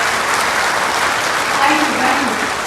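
Audience at a bank officers' association general body meeting claps in a continuous, moderate burst, with a faint voice heard underneath.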